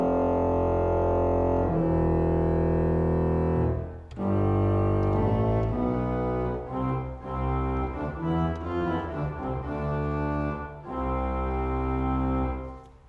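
A pipe organ's pedal division plays chorale melody phrases from Distler's Toccata on Wachet auf, ruft uns die Stimme, Op. 8. Loud sustained low tones move in steady phrases, with a short breath between phrases near the four-second mark.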